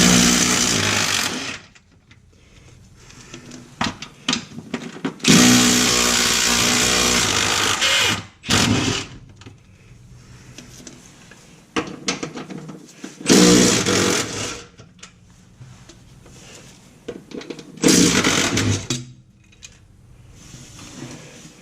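A power tool whirs in repeated loud bursts of a few seconds each, separated by quieter gaps, as it removes the cross member bolts on an 82-92 third-generation Camaro.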